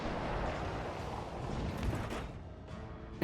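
Naval guns fire in the World of Warships Legends video game, a rolling series of booming shots and rumbling impacts over about three seconds.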